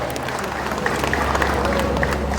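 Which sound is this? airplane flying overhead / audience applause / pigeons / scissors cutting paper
audience applause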